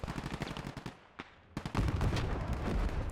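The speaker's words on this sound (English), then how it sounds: "Sometimes they explode, sometimes they just cook off." Tank ammunition cooking off in the Gates of Hell war game, a rapid string of sharp cracking pops with a brief lull before a louder, denser burst of crackling explosions close by.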